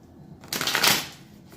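A deck of cards riffle-shuffled for a tarot-style reading, one quick crisp burst of fluttering card snaps, close up and alone.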